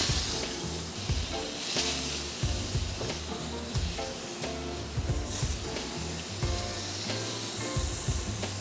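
Carrots and a garlic clove sizzle in a smoking-hot pan, a steady loud frying hiss with crackling bursts and occasional clinks of stirring, no voices.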